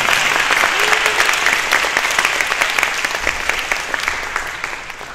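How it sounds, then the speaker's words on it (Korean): Dense, sustained audience applause fills a church youth and university students' joint worship service, many hands clapping steadily at close range and tapering slightly toward the end, with no talking over it. "우리 알바니아에 곧 가실 우리 어머니 그리고 우리 청년대학생들을 위해서 박수 한번 어떻게"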